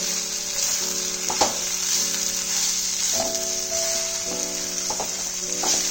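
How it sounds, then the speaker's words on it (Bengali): Potato and cabbage are stirred together in a hot pan, with a constant loud sizzle broken by short spoon scrapes and clacks every second or so. "আলুটা দিয়ে এবার ভালো করে আমি বাঁধাকপির সাথে মিশিয়ে নেব"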